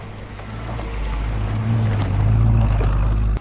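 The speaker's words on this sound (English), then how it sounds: "Go and rev it up." A 1966 Mustang GT V8 idling with a steady deep rumble that swells as the engine is revved, holding loud and close before cutting off abruptly at the end.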